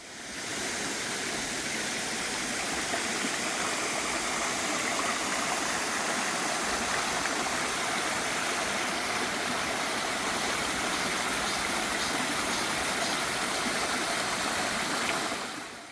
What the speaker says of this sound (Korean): 곳곳에 작은 폭포가 흘러 시원합니다.